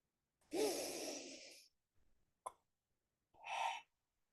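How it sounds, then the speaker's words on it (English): A person draws a long, steady breath in through the nose, then gives a short sniff and a second softer inhale, close and quiet with no talking. "Breathe through your nose"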